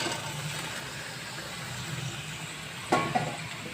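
Fried potato and kundru (ivy gourd) pieces tossed back into a pan, a low steady sizzle running throughout with a sharp clatter of the food dropping in near the end.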